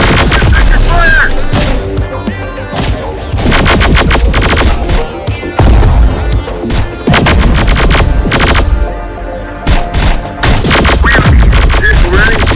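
Dense bursts of gunfire and heavy booms from the video game Terminator Dark Fate Defiance, loud and rapid, with shots and explosions overlapping in irregular clusters and brief lulls between volleys.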